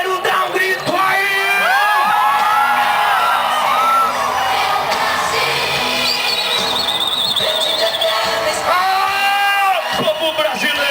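A Brazilian rodeo crowd shouts, whoops and cheers loudly, a dense wall of yelling that swells and dips throughout, with an amplified voice rising above it in bursts.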